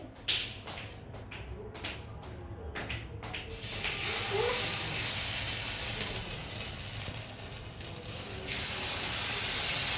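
Chitoi pitha batter cooks in a hot mould. A few scattered taps come first, then a loud, steady hiss takes over and runs continuously to the end.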